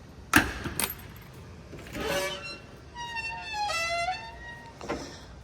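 The trunk of a 1966 Pontiac GTO being opened, with a sharp metallic click and clunk of the latch and a creaking, squeaky hinge as the lid swings up, close and moderately loud.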